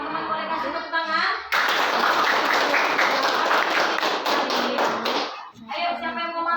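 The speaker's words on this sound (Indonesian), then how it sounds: "Oke, teman-teman boleh kasih tepuk tangan." A classroom group bursts into clapping for about four seconds, loud and dense, with a teacher's voice talking just before and after the applause.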